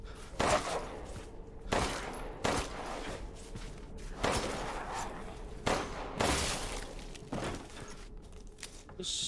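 Six gunshots ring out one at a time in Resident Evil Village, each a sharp blast separated by a second or more of quiet room tone, loud and close.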